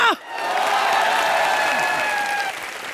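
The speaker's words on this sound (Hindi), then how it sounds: "जूही चावला यहाँ जोरदार तालियां" A studio audience at a television comedy show applauds loudly and steadily, with bright sustained musical tones ringing over the clapping until the sound eases off just before the end.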